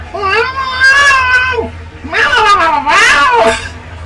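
A cat meows loudly and up close in two long, wavering, drawn-out cries, the second rising and falling like a caterwaul, with no talk over them.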